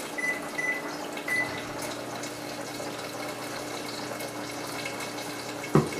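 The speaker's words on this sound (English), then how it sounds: "And we're going to add our buttermilk." Buttermilk pours into biscuit mix in a steady, soft liquid stream lasting several seconds, followed by a short thud at the end in a quiet kitchen.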